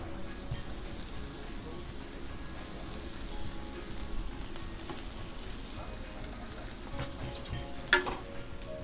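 Onions and peppers frying in butter on a flat grill for an egg chopped cheese sandwich, a steady, moderately quiet sizzle with occasional scraping and one sharp clatter toward the end.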